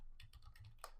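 Rapid typing on a computer keyboard, close and crisp, with a run of evenly spaced key taps ending in a sharper, louder stroke.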